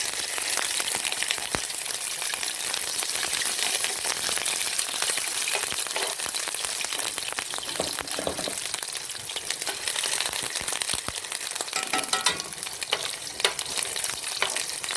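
A store-bought shrimp burger patty fries in a pan with a steady, close sizzle and crackling spatter that lasts throughout, without any talking.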